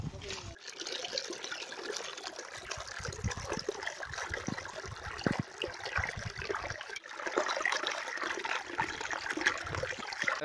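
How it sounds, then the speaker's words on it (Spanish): Water flows steadily at the source of the Copacabana river in Córdoba, Argentina, a continuous moderate trickling rush heard close by with some faint handling noise. "Como pueden ver, ya hay mucho mayor caudal de agua."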